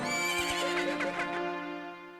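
Horse in the video game Majora's Mask lets out a loud, clear whinny that wavers and trails off, accompanied by a couple of hoof clops near the start.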